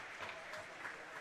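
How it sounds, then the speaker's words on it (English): Both hockey teams applaud an injured player lying on the ice during a Red vs Black game, a brief, steady patter of clapping that sounds somewhat distant and faint in the rink. "Both teams applauding as the player down is AJ"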